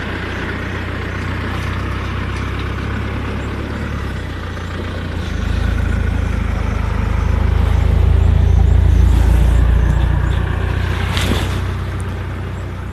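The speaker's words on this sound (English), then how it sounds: "this vehicle's just started its engine" A safari vehicle's engine starts up and idles with a low, steady rumble, swelling louder midway through before easing back, heard outdoors with no talking.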